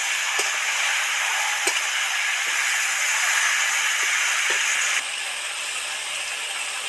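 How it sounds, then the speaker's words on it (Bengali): Vegetables sizzling in a pan as they fry, a continuous close hiss with a few light clicks of stirring, slightly quieter toward the end, with no talk. "সাত মিনিট এইভাবে ধরে ধরে কষতে থাকবো"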